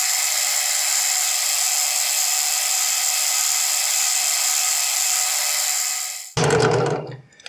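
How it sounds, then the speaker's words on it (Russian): A drill press used as a milling machine whines steadily and loudly for several seconds, then the tone cuts off abruptly into a short, harsher burst of cutting noise before fading. "Фрезерую на сверлильном станке."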